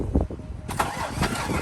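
A Range Rover Vogue with a knocking engine cranks and catches, a short burst of starter churn and then the engine firing up with a rough, loud note close by.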